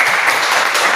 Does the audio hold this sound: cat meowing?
no